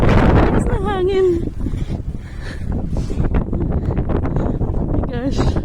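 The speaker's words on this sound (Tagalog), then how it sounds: "Lakas ng hangin." Strong wind from a blizzard in Saskatoon roars and buffets the microphone while a person talks over it.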